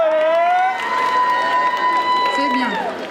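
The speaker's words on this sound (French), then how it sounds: "Vous pouvez les applaudir encore un peu." The audience at a cosplay contest at Japan Manga Wave 2023 in Rennes keeps up loud, continuous cheering and applause. Voices and shouts mix into the dense crowd noise.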